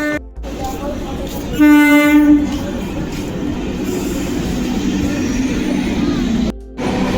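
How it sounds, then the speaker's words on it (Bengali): An empty train from Budge Budge pulls in on the Sealdah line; a loud, brief horn blast rises over the steady rumble and rattle of the approaching carriages, with faint voices around. "ফাঁকা ট্রেন আসছে সামনে থেকে আমার শিয়ালদার ট্রেন আসছে"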